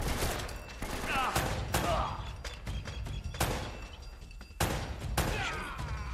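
Gunfire in the video game Uncharted: Drake's Fortune comes as repeated sharp bursts of shots and thuds over a dense, loud game soundscape, in several clusters across the stretch.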